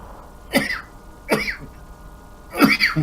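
A player voices a pipe smoker's cough: three short, raspy throat-clearing coughs spaced about a second apart, close and dry against a quiet background.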